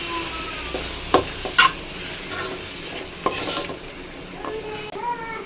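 A spoon stirs a cup of curd into okra gravy in a pan, with soft scraping and a few sharp clinks against the metal over a steady low sizzle.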